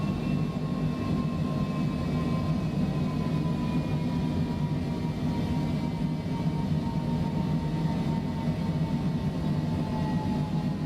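Steady engine drone of a single-engine turboprop airplane cruising in Microsoft Flight Simulator 2020, likely the TBM930, a continuous even hum and whine holding constant throughout with no talking.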